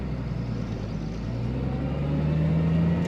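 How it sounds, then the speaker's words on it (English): A 1937 Packard 115-C business coupe engine idling with a manual floor shift, a steady low rumble with a faint rising hum, close and even throughout with no talking. "This car starts up easily, idles nicely right away"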